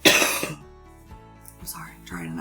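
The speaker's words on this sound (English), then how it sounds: "I'm trying to not cough" A sharp cough bursts out at the start, followed by quieter throat sounds and a softer cough-like rasp near the end.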